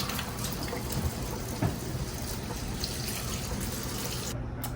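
Steady, close rush of water from a kitchen tap while okra is washed under it, continuous and fairly quiet with no talking.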